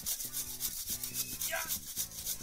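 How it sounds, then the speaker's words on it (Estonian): A handsaw cutting through wood in steady back-and-forth strokes, about four rasping pulls in quick rhythm, fairly close, with a low tonal hum running underneath. "Sae puud, alpun!"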